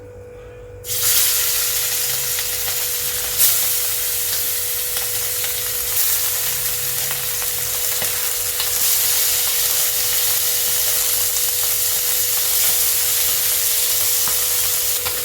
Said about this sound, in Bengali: এবারে আমি মাছগুলোকে ভেজে নিচ্ছি